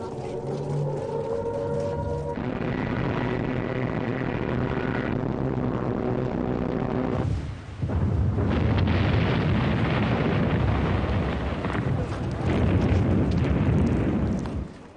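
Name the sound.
aircraft bombing explosions, Luftwaffe bombing Malta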